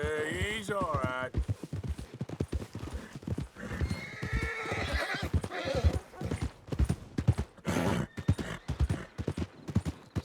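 A horse in the Red Dead Redemption 2 video game trots with steady clip-clop hoofbeats and lets out a loud whinny near the start, and the hooves carry on under a busy game soundscape.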